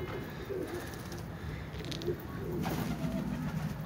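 Pigeons coo softly and continuously in a loft, a low murmuring drone with a faint flutter partway through, steady and fairly close.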